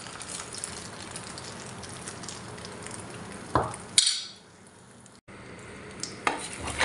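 Egg scrambled and stirred in hot cooking oil in a pan while making bacon fried rice, a steady soft sizzle with scraping spatula strokes and a few sharper clinks of utensil against the pan.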